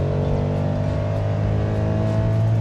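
A Ford Ka with a 1.0 engine revving steadily in second gear while climbing uphill, a continuous droning engine note rising slightly in pitch, close and loud inside the car, no talk.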